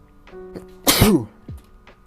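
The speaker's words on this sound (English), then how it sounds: "And I sneezed." A single sharp human sneeze bursts out loud and close, surrounded by faint background sounds.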